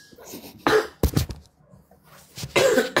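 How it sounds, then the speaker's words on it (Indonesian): Several sharp, close coughs in quick bursts, separated by brief pauses. "Batuk."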